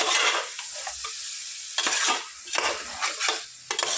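Chicken with ginger garlic paste and turmeric is frying in a pan, making a loud hissing sizzle that swells in bursts as it is stirred and scraped, close up, with no speech.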